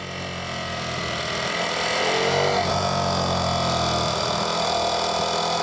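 Ducati Panigale V4S motorcycle engine droning steadily inside a tunnel, a continuous even hum that swells slightly midway and echoes with a slight whine, no voices.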